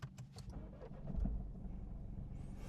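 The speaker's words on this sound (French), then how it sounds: "le véhicule démarre au quart de tour" A 2018 Mini Cooper D F56 1.5-litre diesel with manual gearbox starts at the push of its start button, a low thump of ignition settling into a steady, fairly quiet idle rumble.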